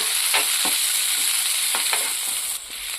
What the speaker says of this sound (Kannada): ಸಣ್ಣಗೆ ಕಟ್ ಮಾಡಿದ ಒಂದು ಈರುಳ್ಳಿಯನ್ನು ಹಾಕ್ಕೊಳ್ಳೋಣ ಕರಿಬೇವನ್ನು ಹಾಕ್ಕೊಳ್ಳೋಣ ಫ್ರೈ ಮಾಡ್ಕೊಳ್ಳೋಣ